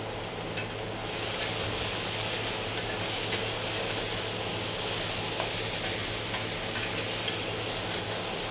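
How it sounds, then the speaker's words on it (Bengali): Chopped onions fry in a pan, giving a steady, close hiss and crackle with occasional faint ticks and stirring, continuous throughout without any speech. "পেঁয়াজগুলো একটু ভাজা ভাজা করে নেব, তবে বেশি লাল করব না"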